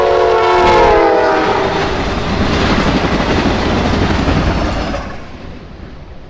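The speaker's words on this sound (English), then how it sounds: "we would watch a train race west, with the classic wispy K5LA on F59PH 1810." A westbound train led by F59PH locomotive 1810 races past sounding its wispy K5LA horn, the chord loud at first, then rushing wheel and rail noise that fades as it moves off.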